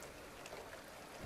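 Gentle rain falls in the video game The Final Station, a soft, even hiss of drops pattering on surfaces, faint and steady with no voices over it.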